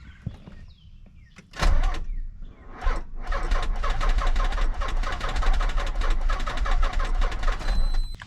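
A project Nissan 300ZX running on jumper cables cranks with a sharp burst, then catches and settles into a steady, fairly loud engine run close by.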